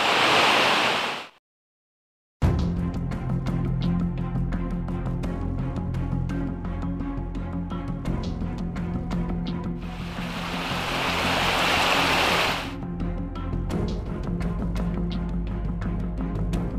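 Rushing river flowing over rocks along a damp, stony forest trail, a steady broadband water roar that swells louder midway, briefly cut to silence near the start.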